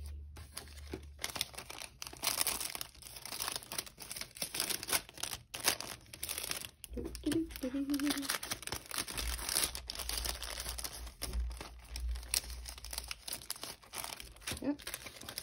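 Crinkly plastic mailer bags rustle and crunch continuously while Etsy orders are packed, close and busy with constant handling, with a soft voice murmuring briefly partway through.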